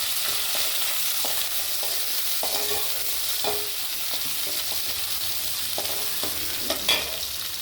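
Chopped onions and curry leaves fry in hot oil with a steady, dense sizzle, broken by intermittent scraping knocks of a stirring spoon against the pan, close and continuous with no talking.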